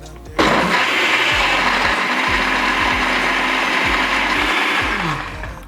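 A blender blitzes a mudslide cocktail with marshmallows, starting abruptly and running as a loud, steady whirring roar with rhythmic low thumps of contents churning, then easing slightly at the end.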